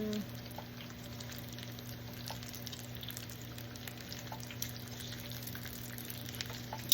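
Bacon frying on a flat griddle, a soft, steady sizzle and crackle with small pops throughout, fairly quiet and heard alone over a faint background hum.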